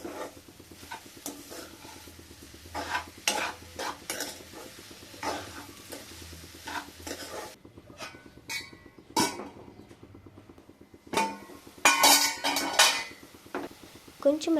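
Carrot halwa being stirred in a pan with cardamom powder, a spoon scraping and clinking against the metal in irregular strokes, with a soft sizzle and a few louder clanks near the end.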